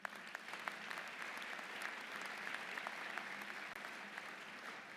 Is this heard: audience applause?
yes